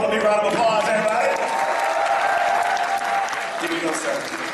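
Sustained applause from a studio audience at a wrestling-themed comedy show, dense and steady clapping filling the whole stretch with crowd noise and a few voices mixed in.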